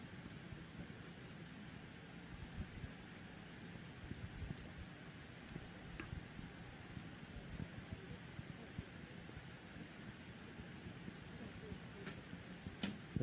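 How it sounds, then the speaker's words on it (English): Steady rain falls at an outdoor Olympic-qualifying archery tournament, a soft even hiss of drops with low rumbling wind, faint and continuous throughout. "You can hear the rain coming down now."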